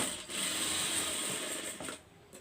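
A sewing machine runs steadily while double-stitching the sleeve seam of a blouse, a close, even mechanical whir that stops shortly before the end.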